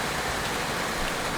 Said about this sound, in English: as you can hear, it is raining outside